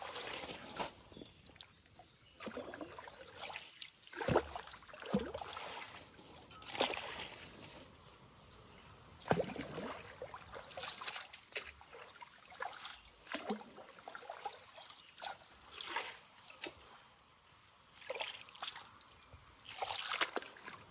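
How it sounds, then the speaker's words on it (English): Water rushes through a county ditch draining a high lake, a soft, uneven gurgling and splashing flow that stays fairly faint, with occasional louder sloshes and bumps near the microphone. "No babbling brook anymore now, it's a roaring rapids."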